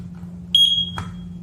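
A newly installed smoke detector gives a short, loud, shrill electronic beep during its test, cut off by a click, over a steady low hum.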